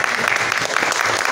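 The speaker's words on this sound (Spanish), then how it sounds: "aplauso para los muchachos del sonido, por favor" Audience applause at a live chamamé concert in Eldorado, Misiones, a dense, steady clatter of many hands clapping close by, continuous and unbroken for the whole stretch.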